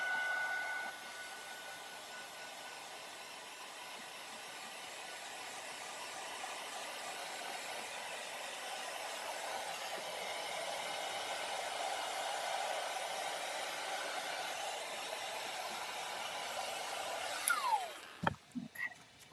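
A heat tool blows steadily while drying pigment ink at a crafting table, a continuous loud hissing whoosh that holds for most of the stretch before the tool cuts off with a falling whine and a couple of knocks.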